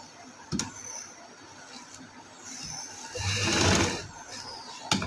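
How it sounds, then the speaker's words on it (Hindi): Sewing machine running in short bursts while stitching the corner of a fitted bedsheet, a steady motor whir swelling louder near the end, heard close with no talk. "हम 5-6 सिलाई लगाएंगे ताकि मजबूती हमारी कपड़े में रहे"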